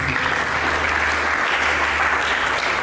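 Dense, loud applause fills a church as the congregation claps for God during a sermon, a continuous wash of many hands with a low steady hum underneath and no speech.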